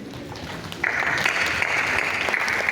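A standing audience in a formal hall breaks into applause for a speaker, starting after a murmur of room noise and swelling into loud, sustained clapping.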